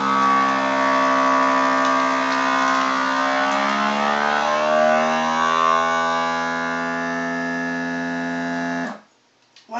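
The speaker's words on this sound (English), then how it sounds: "it stopped all the vacuuming and now it's just sealing the bag" A vacuum sealer pulls air from a bag holding about 50 rounds of ammunition, its steady close motor drone rising slightly in pitch for about nine seconds before stopping abruptly, followed by a faint click.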